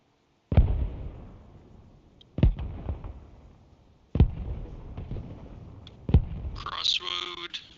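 Artillery rounds land in a military video game: four heavy booming detonations spaced a couple of seconds apart, each with a long rumbling decay, followed by a brief burst of radio-like noise at the end.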